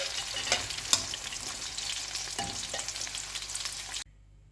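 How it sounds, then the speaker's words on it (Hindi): Chicken frying in oil in a pan, a steady broadband sizzle with a few stirring scrapes and clinks, close and fairly loud, cutting off abruptly near the end. "चिकन को 10 मिनट के लिए मैंने फ्राई किया था अच्छे से।"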